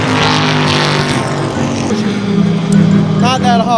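A restored race car at the Rolex 24 at Daytona pulling away with a loud, rising engine roar, while someone talks close by over the noise.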